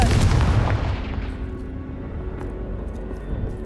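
A Confringo fire spell blast in Hogwarts Legacy, a single loud booming explosion at the start that decays into a long rumbling tail, with no speech.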